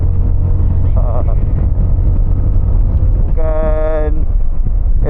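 A Zontes motorcycle engine drones steadily and loudly with wind rumble, its pitch briefly rising near the end as it pulls uphill.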